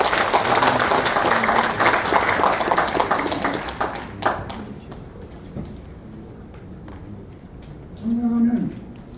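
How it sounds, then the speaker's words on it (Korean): An audience claps in a warm round of applause at a founding ceremony held in a small National Assembly meeting room. The clapping fades after about four seconds, and a speaker's voice follows. "여러분 큰 박수로 모시겠습니다"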